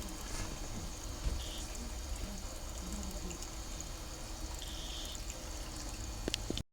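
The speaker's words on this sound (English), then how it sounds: "So what I can do is I can increase my water pressure just a little bit." Water rushing steadily while prospecting for gold, flowing over black sand in a sluice outdoors; a constant broadband wash with faint clicks of gravel, no speech.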